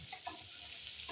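Onions and green chillies fry in a hot pan while being stirred, a steady soft sizzle with occasional scraping strokes, quiet and without speech.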